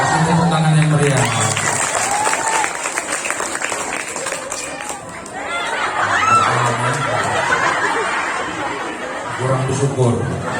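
Applause and crowd murmur from a mosque audience during a Maulid Nabi sermon, the clapping rising in loose bursts amid chatter and speech for most of the stretch.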